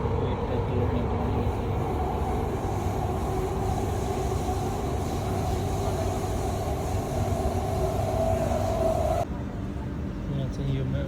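A Qatar metro train runs with a steady low rumble and rolling hum, heard from inside the carriage, continuous and fairly loud, with a rising whine near the end before the sound drops.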